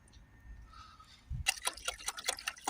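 Antifreeze coolant pours into a Ford Transit 2.0 MK8 radiator in a quick, bubbling stream after a brief quiet moment, close and fairly faint, with glugging splashes.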